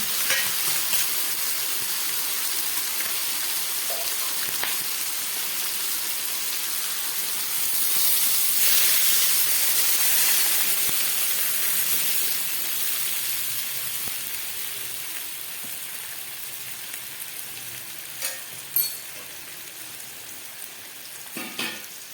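Ground mustard and green chili paste mixed with raw mustard oil and turmeric, sizzling in a pan while fish is cooked: a continuous loud hiss with steam that eases off later, with a few scraping stirs near the end.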